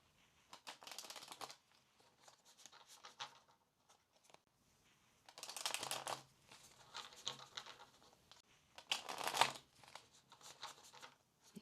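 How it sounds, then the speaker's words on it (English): A deck of tarot cards being shuffled in three separate bursts of quick riffling patter, close and crisp, with quiet pauses between them. "Let's give the cards a shuffle."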